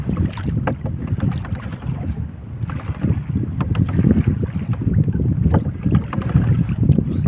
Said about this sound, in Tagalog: Pakinggan yung hangin mga lods. Lakas ng hangin.